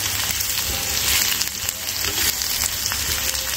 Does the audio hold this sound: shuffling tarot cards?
no